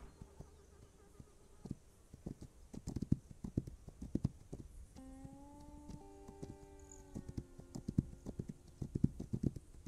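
Horse hooves clip-clop in the video game This Land Is My Land, a faint uneven run of hoof knocks mixed with buzzing insects and a brief tonal game sound midway.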